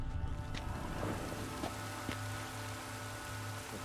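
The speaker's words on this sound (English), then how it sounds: "Looks like rain." Rain falls in The Witcher 3 as a dense, steady patter with scattered sharper drops, a continuous moderate wash over low ambient rumble and hum.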